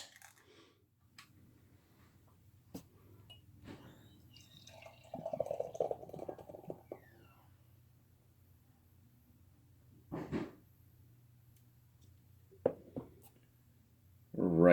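Narragansett Autocrat Coffee Milk Stout is poured into a glass in a quiet room: a short, faint splashing pour in the middle, surrounded by scattered light clinks and drips of glass and bottle.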